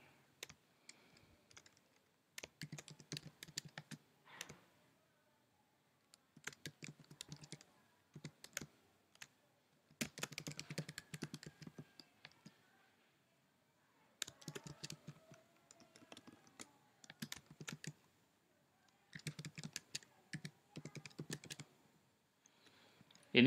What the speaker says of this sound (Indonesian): Tugas ini Anda bisa ketikkan judulnya ya.